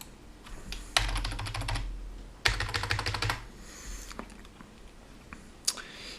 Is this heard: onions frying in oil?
no